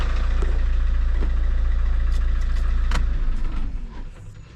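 Opel car engine idling with a failing power steering pump, a steady low engine drone with a whine on top, fading near the end as the engine is switched off.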